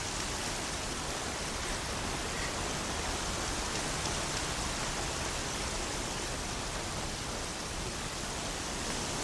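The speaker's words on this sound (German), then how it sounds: "Der Regen ist viel zu laut," Heavy rain in the video game Horizon Zero Dawn, a dense, steady hiss of downpour filling the scene loudly and continuously with no voices.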